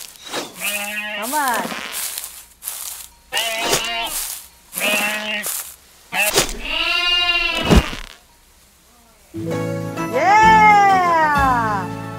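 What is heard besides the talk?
sheep bleating in a video game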